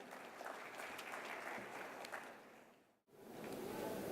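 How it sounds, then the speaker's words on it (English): Audience at an architecture and design event applauds a speaker coming on stage, a broad, sustained roar of clapping that briefly cuts out, then swells back up. "Let's have a huge round of applause and please help me welcome on stage"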